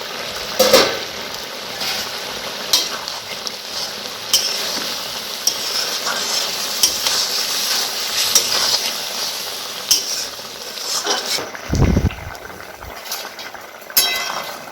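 Potatoes and ridge gourd cook in a covered pan with poppy seed, stirred now and then: a steady sizzle and bubbling runs throughout, with scraping spoon strokes and a few sharper clanks of the lid or utensil.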